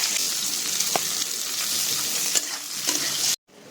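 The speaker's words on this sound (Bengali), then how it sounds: "এবার পেঁপেগুলো ভেজে নেব" Papaya pieces frying in a pan with a little salt make a constant close sizzle punctuated by light stirring clicks, ending abruptly near the close.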